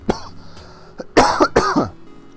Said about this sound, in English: Still on the tail end of this cough